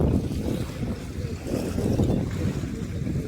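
Wind sweeps across Pangong Lake in a continuous, loud rumble that buffets the microphone, with faint gusting swells.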